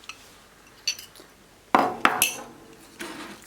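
Beaten eggs are mixed into choux pastry dough in a bowl, with a few sharp clinks and scrapes of a utensil against the dish in short, irregular bursts over a quiet background.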